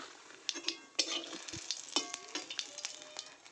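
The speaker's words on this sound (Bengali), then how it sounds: "ওই মাছ ভাজার তেলেই দিয়ে দিলাম জিরা সম্বারা," Cumin seeds hitting hot oil left from frying fish give a close, crackling sizzle with sharp pops and spoon scrapes against the pan, alone without voices.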